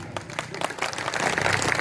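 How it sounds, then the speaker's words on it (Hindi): An audience claps at a Ram Navami village gathering, scattered hands at first, then swelling into denser, louder applause toward the end, with no talk over it. "शर्त वही है, तालियां बजाएंगे तो मैं पढ़ूंगा"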